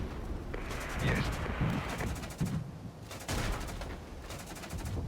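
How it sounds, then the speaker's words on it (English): Cannon fire from an Mi-24 helicopter in the war game Regiments rattles in rapid repeated bursts with scattered blasts, moderately loud against a busy battle background, with a few brief voices mixed in. "The Mi-24 there actually killing them with the cannon."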